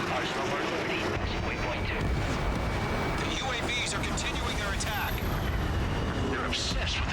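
Missiles launch from an F-14D at locked targets in the jet combat game Ace Combat 7, with whooshing launches and explosions amid roaring jet noise, while someone talks over the action.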